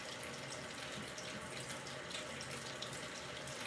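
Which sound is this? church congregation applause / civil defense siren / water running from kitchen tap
water running from kitchen tap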